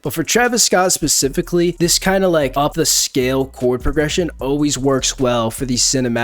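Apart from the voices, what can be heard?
No distinct noise like a dog, phone or traffic.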